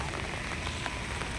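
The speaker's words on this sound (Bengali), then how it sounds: "বাট আজকে প্রচুর বৃষ্টি হচ্ছে, তাই ছাতা নিয়ে বেরোতে হয়েছে।" Heavy rain pours steadily at the Red Fort in Delhi, a dense, continuous hiss of drops close by with no break and no voices.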